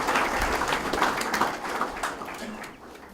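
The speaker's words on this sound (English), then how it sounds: "give the people of Lomawai a huge round of applause" Audience applause for the people of Lomawai at a telecentre opening in Nadroga, Fiji: a steady wash of clapping from a crowd, fairly loud and continuous for a few seconds, fading slightly toward the end.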